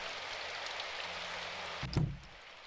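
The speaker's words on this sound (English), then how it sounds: "As the rain bounced off the cobblestones of the street" Steady rain falls on a cobblestone street in the video game Symphonic Rain, a soft, even hiss throughout, briefly interrupted near the end by a short, louder thud.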